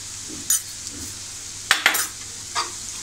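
Prawn masala with turmeric, red chilli powder and garam masala being sautéed in a pan, heard as a few sharp metal spoon scrapes and clinks against the pan over a faint background sizzle.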